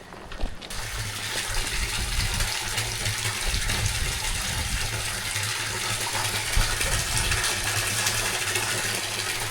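Water running through drains under a building: a steady gushing, splashing flow heard up close and continuous, with a slightly rougher surge in the first seconds.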